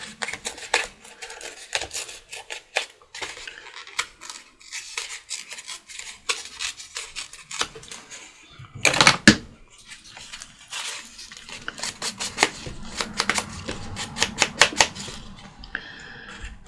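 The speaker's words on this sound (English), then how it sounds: "I think I'm going to tear this just a smidge smaller on this side." Paper being torn by hand for layered mixed media journal cards, bursts of crisp ripping and rustling with short pauses between tears and one louder rip in the middle.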